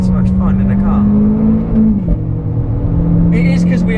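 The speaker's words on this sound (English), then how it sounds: "the noise with the pops on the upshifts and everything, the gearbox" Renault Clio R.S. driven hard on track on a hot day in the south of France, its engine droning loudly and steadily with a pitch drop at a shift, while people talk excitedly over it inside the car.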